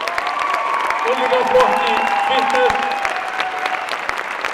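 An audience at a men's junior fitness competition claps in sustained, dense applause while an announcer talks over a microphone, with faint cheers mixed in.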